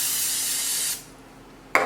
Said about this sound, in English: we'll just do one more little spritz of olive oil spray